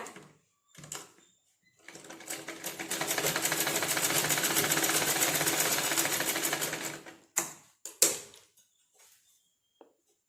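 Sewing machine stitching a blouse patti, running steadily for about five seconds with a fast even needle rhythm, followed by a few short bursts.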